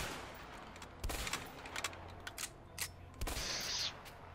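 Gunfire from an MP5 submachine gun in the video game A Way Out, several sharp bursts and single shots spaced unevenly over a steady low background rumble, fairly faint and with no talking.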